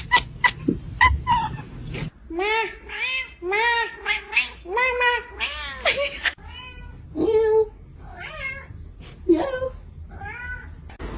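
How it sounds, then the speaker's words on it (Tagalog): A kitten meowing repeatedly in a rapid series of high, insistent cries, close and clear, with brief pauses between bursts and a few scattered clicks and knocks at the start. "nakakalakad na pala yung anak ng aking pusa"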